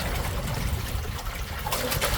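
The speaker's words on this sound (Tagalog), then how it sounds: "Konting tubig." A little water pours into a pot of vinegar stew being cooked, a steady close trickle and splash running the whole time with a brighter spatter near the end.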